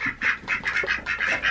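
Several ducks quacking in a quick, overlapping series of nasal calls, close and clear.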